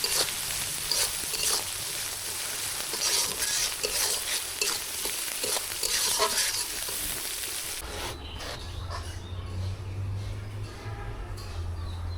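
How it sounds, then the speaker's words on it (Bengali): Shrimp fry in a pan with onion, garlic and chili, a steady close sizzle broken by scraping stirs and clinks for most of the stretch, then the frying settles into a quieter hiss with a low hum. "পেঁয়াজ রসুন ঝাল দিয়ে চিংড়ি মাছগুলো ভাজা হয়ে গেছে"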